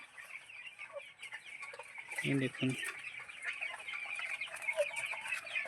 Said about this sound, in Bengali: রোজ দিন ডিম দেয় এই একটাই মুরগি আছে আমার